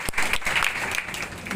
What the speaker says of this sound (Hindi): एक बार के सम्मान में जोरदार तालियां बजाकर